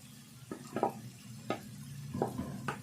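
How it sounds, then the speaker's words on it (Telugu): Fried bitter gourd pieces being stirred into cooked onion and tomato in a pan, with a soft low sizzle under repeated scraping, clinking stir strokes about once a second, close by with no talk. "ఈ ముక్కలు ఇప్పుడు వేసుకొని కలుపుకోవాలి."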